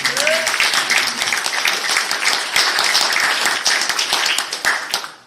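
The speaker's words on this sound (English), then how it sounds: "a round of applause and appreciation to the public" Sustained audience applause from a public gathering, dense clapping that runs steadily for several seconds and tapers off at the end.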